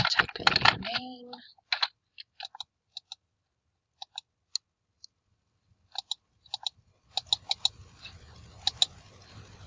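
Keys on a computer keyboard are tapped to type a name, sparse separate clicks spread out after a brief burst of speech at the start, with faint background hiss toward the end.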